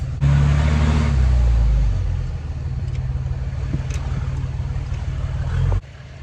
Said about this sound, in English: I do hear some more turbo